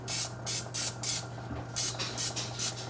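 Cooking spray hisses onto a hot pan in a series of short, close bursts, about eight or nine quick sprays in a steady rhythm over a low constant hum, with no talking.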